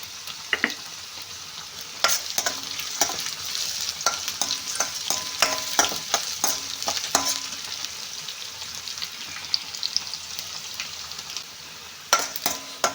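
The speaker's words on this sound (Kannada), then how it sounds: "ಹಾಗೆ ಈರುಳ್ಳಿನೂ ಹಾಕ್ಕೊಳ್ತೀನಿ. ಇದು ಮೊಸರನ್ನ ಮಾಡೋದಕ್ಕೆ ಒಗ್ಗರಣೆಗೆ" Onion, curry leaves and green chili sizzle in hot tempering oil for curd rice, with steady frying hiss broken by sharp clicks and scrapes of a spoon stirring in the pan, fairly close and with no talking.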